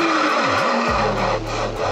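Rear tire of a RadExpand 5 e-bike skids and squeals under hard braking while descending a steep hill at about 25 mph, a loud tonal screech that bends and then holds steady over a low motor hum, with no voices.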